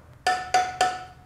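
Screwdriver tip tapping a tight bicycle wheel spoke, three bright ringing metallic pings evenly spaced about a quarter second apart, each with a sharp attack and short decay, close and clear over a quiet background.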